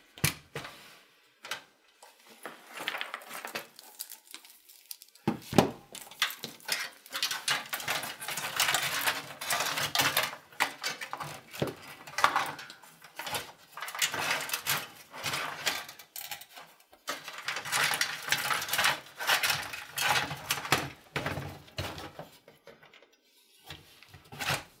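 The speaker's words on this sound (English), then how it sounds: "then we'll go and slide the power supply into the case" A power supply sliding into a Corsair 250D mini-ITX PC case: quiet scraping and clicking of metal and plastic, with scattered taps and rattles throughout and no speech.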